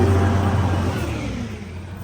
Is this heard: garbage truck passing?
yes